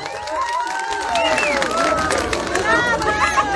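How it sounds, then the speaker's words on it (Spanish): Applause and cheering rise from an audience at a traditional dance contest for older adults in El Romero, honoring a dancing couple; a loud, continuous crowd wash with chatter and a voice speaking over it. "El aplauso fuerte para ellos."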